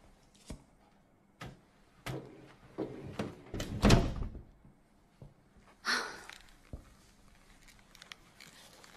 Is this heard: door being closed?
yes